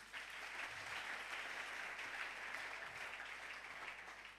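A church congregation applauds during a sermon at a worship service, a dense, even wash of clapping heard faintly at a distance, sustained without breaks and with no one speaking over it.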